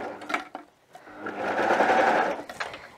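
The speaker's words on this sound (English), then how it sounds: "serge down the sides" A serger overlock sewing machine runs steadily along the side seams of a wrap romper, a close whirring hum that starts after a couple of brief hesitant bursts and holds for about a second and a half.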